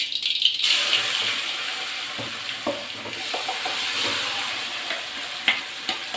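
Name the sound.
sautéing ridge gourd peel paste in oil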